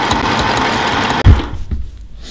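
Sewing machine stitching the fold of a Japanese-style zero-waste coat, a steady mechanical whirr that runs for over a second, then stops with a thump and is followed by a few softer, uneven mechanical sounds.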